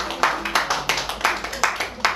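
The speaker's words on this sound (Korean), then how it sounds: "박수 한번 보내주시기 바랍니다." Scattered audience clapping at a posture-correction lecture, a handful of distinct sharp claps in an uneven rhythm, fairly close and moderately loud, with no one talking.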